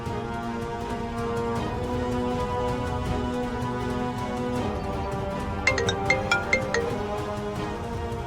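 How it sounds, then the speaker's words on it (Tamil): A phone rings on an outgoing call in a Tamil TV drama scene, a short run of bright repeated tones near the end over steady background music. "கார்த்திக்கு ஃபோன் பண்ணுவோம்."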